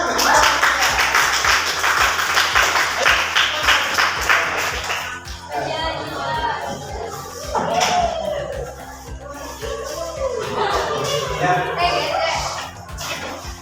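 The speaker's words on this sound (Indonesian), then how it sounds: "Kita mau tepuk tangan ya" Classroom applause for a student group about to present, a dense burst of clapping for about five seconds that fades into scattered claps and murmuring voices.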